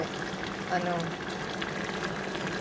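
Ginataan coconut milk stew bubbling at a rolling boil in a pot, a soft steady burble with occasional pops, heard close and continuous under a person speaking.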